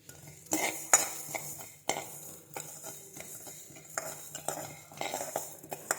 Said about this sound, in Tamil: இப்போ நம்ம அதை பொன்னிறமும் வறுத்துக்குவோம்